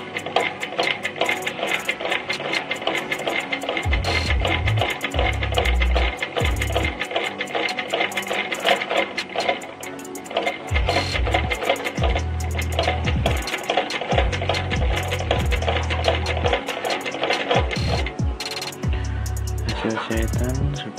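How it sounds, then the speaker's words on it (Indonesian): An old sewing machine is cranked by hand with its motor not installed, making a rapid mechanical clatter of needle and gears in bursts with brief pauses and low thumps, close and steady. "Saya coba menjahit, saya putar dengan tangan dulu karena dinamonya belum saya pasang."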